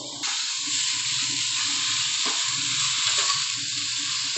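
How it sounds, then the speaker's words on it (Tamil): Potatoes fry in hot oil for khichdi with a steady, close sizzle and crackle. Faint scraping and stirring sounds come through underneath, and the hiss never stops. "இப்போ உருளைக்கிழங்காக ஃப்ரை பண்ணிட்டுருக்கோம்"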